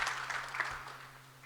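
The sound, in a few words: applause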